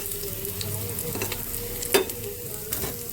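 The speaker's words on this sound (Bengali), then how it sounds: "আবার ওই তেলেই এই মাছগুলো ভাজবো" Pieces of fish frying in hot oil in a wok, a steady close sizzle with soft stirring clatter and one sharper crackle burst midway.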